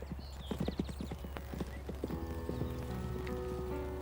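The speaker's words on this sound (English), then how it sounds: "As he spurred his horse after Jill" A horse's hooves clip-clop quickly across hard ground in a brisk, close rhythm, with a short whinny near the start, then a steady ambient hum beneath.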